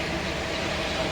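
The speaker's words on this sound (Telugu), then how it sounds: "ట్రైన్ అయితే కదులుతున్నది" The zoo train at Al Ain Zoo in the UAE rolls along with a steady, close rumble and hum.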